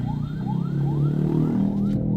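An ambulance siren wails in a traffic jam during a fuel queue in Balikpapan, its rising sweeps repeating about five times at a steady pace over a loud, constant engine and cabin hum.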